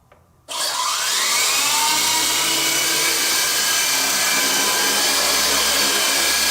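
WLtoys V912 4CH radio-controlled helicopter flying, its rotor and motor starting abruptly after a short quiet moment, then holding a loud, steady high-pitched whine and whir close by for several seconds.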